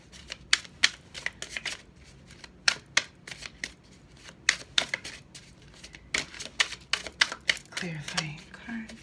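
Hermetic tarot cards shuffled for a reading, crisp riffling snaps and flutters repeating in quick bursts throughout, close and clear, with a voice speaking briefly near the end.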